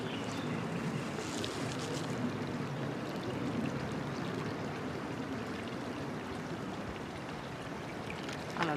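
Water poured steadily into a filter to clean it for drinking, a continuous broadband splashing and trickling that runs near and fairly loud for the whole stretch without any talk.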